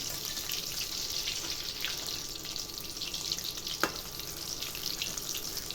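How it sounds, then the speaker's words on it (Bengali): Banana flower fritters made with gram flour and ground rice crisp in hot oil, giving a steady close hiss of sizzling that runs unbroken throughout with no talking. "এভাবে এপাশ ওপাশ করে ভালো করে উল্টিয়ে বেঁধে নিতে হবে মুচমুচে করে"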